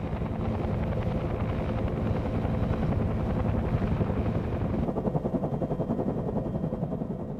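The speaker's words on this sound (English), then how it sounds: "Because of the rotor noise, pilots tried to avoid alerting the enemy until the last possible moment." A Huey helicopter's rotor thumps loudly and continuously, a dense rhythmic chopping roar that stays close and steady throughout.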